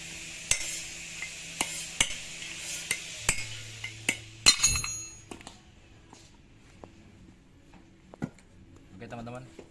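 A hammer strikes a flathead screwdriver to drive out the front wheel bearing of an Isuzu Panther, giving a run of sharp, close metallic clinks at irregular spacing that thin out toward the end, with a voice speaking briefly.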